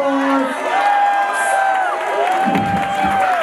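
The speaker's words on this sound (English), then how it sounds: "give them all a round of applause" Crowd at a vogue ball dance night in San Francisco cheering, whooping and shouting for the dancers, loud and close throughout, with sustained hollering voices rising and falling over a continuous roar.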